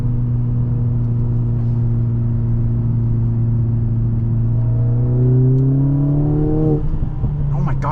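A 2023 Mercedes-AMG GLA 45 engine pulls hard from inside the cabin, a loud droning note climbing steadily in pitch before the transmission shifts and the revs drop and settle again.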